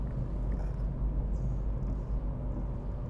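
A 2009 BMW 3 Series 318d SE automatic driving on a road, a steady low engine and tyre rumble from inside the cabin, continuous and even throughout with no talking.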